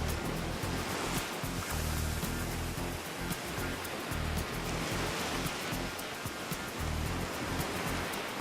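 Waves break continuously on a 30-kilometre loggerhead turtle nesting beach, a dense rolling surf wash with no voices, steady and moderately loud throughout.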